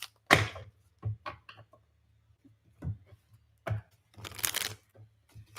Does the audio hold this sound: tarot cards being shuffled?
yes